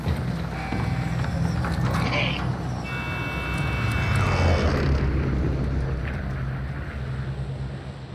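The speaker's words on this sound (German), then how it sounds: "Ich höre jetzt sowieso nichts, weil es so laut ist, das Flugzeug." Loud, steady airplane engine drone in the Call of Duty Warzone battle royale, a dense low roar filling the whole stretch with a brief mechanical whine midway and a few soft game sounds over it.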